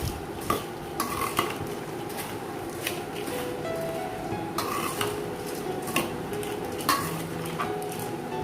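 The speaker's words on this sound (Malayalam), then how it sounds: "സ്പൂൺ വെച്ചിട്ടോ തവി വെച്ചിട്ട് നമുക്ക് മിക്സ് ചെയ്ത് കൊടുക്കാം നന്നായിട്ട് മിക്സ് ചെയ്യാം" A spoon stirs puffed rice snack mix in a bowl, making a dry rustle under repeated light clinks of metal against the bowl at an uneven pace, close by.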